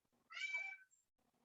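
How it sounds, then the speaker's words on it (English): A house cat gives a single clear meow, drawn out and fairly close, over a quiet room with faint background murmur before and after. "my cat decided to go berserk"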